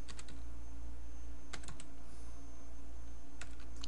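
Quick bursts of keystrokes on a computer keyboard entering a password, a few short clusters of clicks separated by pauses, close and clear over a quiet background hum.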